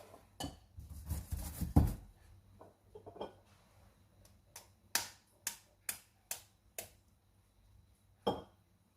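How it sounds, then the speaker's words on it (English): Eggs cracked and separated into a bowl for a South African milk tart, a run of sharp shell taps and clinks against the bowl, a cluster early on, then five evenly spaced close knocks and one last tap, with no talk. "then you're going to separate your eggs"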